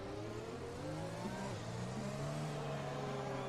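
A Honda Formula 1 engine in a racing video game revs steadily, a thin, buzzy whine like a lawnmower with rising and falling pitch, loud and continuous, with other cars droning like bees in the background.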